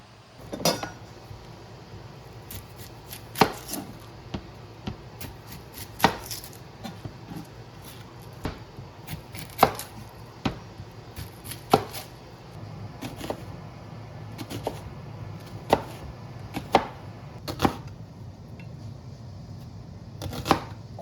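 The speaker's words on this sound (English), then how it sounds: "take the red onions, and we're going to peel them down and slice them thinly" A knife thinly slices peeled red onions on a board, sharp irregular clicks and taps recurring every second or so over a quiet background.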